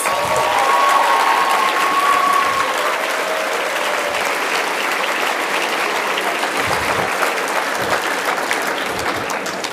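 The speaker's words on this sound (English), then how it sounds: "Let's please give them a huge round of applause." Sustained applause from an awards ceremony audience, a dense steady wash of clapping that holds loud through the whole stretch and eases only slightly toward the end.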